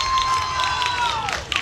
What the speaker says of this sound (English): a big cheer from the Cedartown fans who made the long trip here